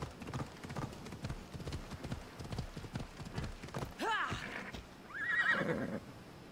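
Hooves clip-clop at a steady gallop as a horse runs in Assassin's Creed Odyssey, then the horse gives a loud neigh and a second whinny near the end, with game sounds behind.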